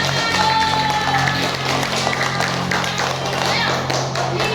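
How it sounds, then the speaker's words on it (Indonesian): A group of children clapping their hands in a primary school class, a dense steady patter of many small claps lasting throughout, close and fairly loud, with voices mixed in underneath. "kasih tepuk tangan"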